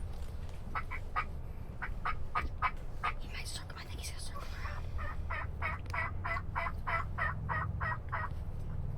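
Wild turkeys gobble in the woods during a spring hunt, repeated rattling gobble bursts at moderate distance, several calls in quick succession, over low outdoor rumble and faint background murmur.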